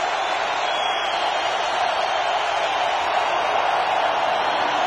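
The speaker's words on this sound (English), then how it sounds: "The Minnesota crowd is alive." A home crowd at a 2003 Denver at Minnesota football game roars in a steady, continuous wash of cheering that holds without letting up.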